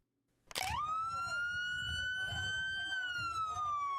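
A police siren starts abruptly and holds a loud, sustained wail during an ICE raid at a Costco in Tennessee, with faint background voices and traffic underneath.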